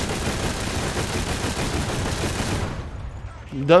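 Tank cannon in War Thunder firing high-explosive shells, a dense, loud barrage of booming fire that rumbles continuously before cutting off abruptly, followed by a brief voice.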